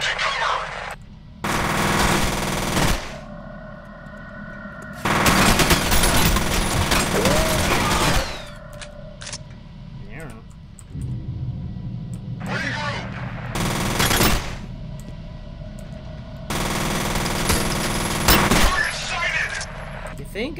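Loud bursts of rapid gunfire in the F.E.A.R. shooter, several sustained volleys split by short lulls, with a voice speaking between shots.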